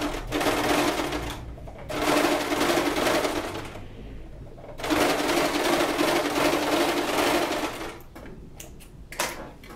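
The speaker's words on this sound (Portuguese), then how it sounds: "Nós vamos passar uma costura." A sewing machine stitching a straight seam on a reinforced bra runs loud and steady in two long bursts, with a pause between them and brief clicks and handling noise at the end.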